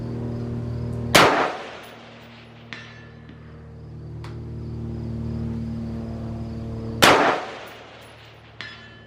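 Rifle rounds from an AR-15 or AK-47 striking a steel plate target: two loud, sharp impacts several seconds apart, each followed by a sustained metallic ring, with a couple of fainter ticks between them and no talking.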